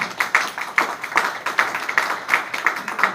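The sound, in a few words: audience applause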